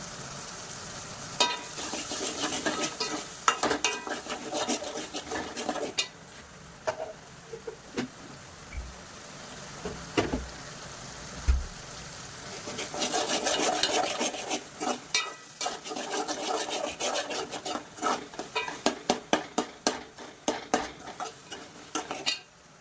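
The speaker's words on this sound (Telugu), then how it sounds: "ఇప్పుడు మనం ఇందులోకి కొద్దిగా అల్లం వెల్లుల్లి పేస్ట్ వేద్దామండి." Ginger garlic paste fries with tomato in a pan while a spoon stirs it, sending rapid metallic scrapes and clinks over a steady sizzle in irregular bursts close by.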